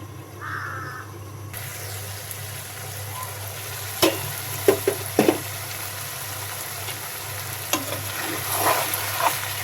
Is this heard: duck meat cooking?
yes